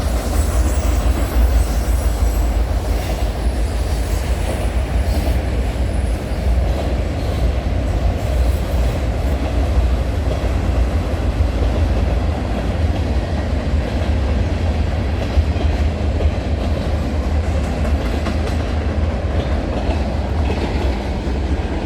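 Trackside at night as the tail of CN freight train 382 rolls past toward Macmillan Yard on the Halton Subdivision: a loud, steady rumble of wheels clicking over rail joints, with occasional faint squeals.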